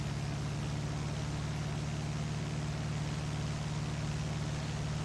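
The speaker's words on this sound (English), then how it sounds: "You hear how the engine changes?" A small airplane engine drones steadily and loudly from close by, a constant low hum with broad noise throughout and no talk.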